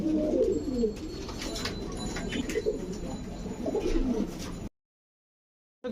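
A pair of imported fancy pigeons at a farm coo close by in low, rolling phrases, with faint chirps above. The sound cuts to silence near the end.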